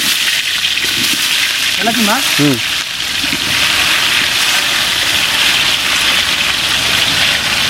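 Onions, about 1.6 kg, frying in a pot with whole spices for chicken biryani, a loud steady sizzle and hiss throughout, with a short whistling tone early on.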